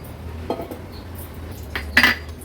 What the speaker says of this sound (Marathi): गॅसवर आपण हे एक पातेलं ठेवलं आहे